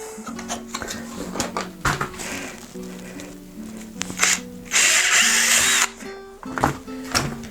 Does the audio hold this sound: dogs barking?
no